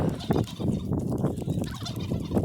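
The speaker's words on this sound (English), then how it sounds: "Hulk's grabbing a chicken." A chicken squawks and cackles loudly and continuously at close range while being grabbed on a farm, with rough scuffling throughout.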